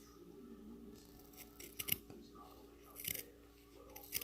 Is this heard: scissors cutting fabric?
yes